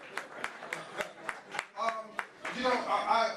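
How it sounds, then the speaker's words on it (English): Audience members at a Black LGBTQ and allies marriage equality celebration clap in a few sharp, evenly spaced claps. The clapping then thickens into a brief round of applause mixed with murmuring voices. "So let's give them a round of applause."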